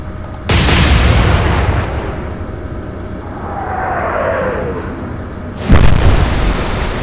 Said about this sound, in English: Open fire. Fire!